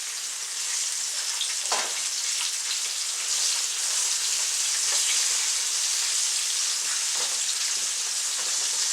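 Browned squirrel pieces fry in a pan with a continuous, even sizzle, close and fairly loud, with a few faint clicks and shifts of the pan.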